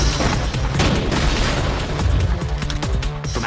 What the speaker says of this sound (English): From out of nowhere, a sniper takes a shot at you.